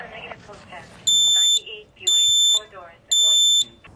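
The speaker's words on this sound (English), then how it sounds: "they just don't wake up the normal buzz or beep beep from a smoke alarm" A smoke alarm sounds three long, loud, piercing beeps at a steady interval, heard clearly over a person talking.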